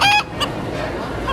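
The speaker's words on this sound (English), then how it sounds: "The rooster crowing competition is really big at the Missouri State Fair." A rooster in a crowing competition at the Missouri State Fair lets out a short, loud crow that trails into fainter clucks and calls nearby.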